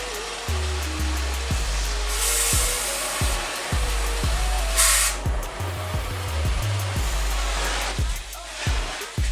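An old torch flame roars steadily while heating metal on a mini-bike in a home garage, a loud continuous hiss with brief bursts and periodic knocks or clunks underneath.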